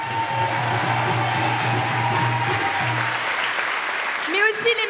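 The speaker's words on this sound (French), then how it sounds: "Je voudrais qu'on applaudisse également" Crowd applause at a municipal election rally in Saint-Denis–Pierrefitte, a sustained dense wash of clapping from a large audience with a low hum underneath and voices mixed in.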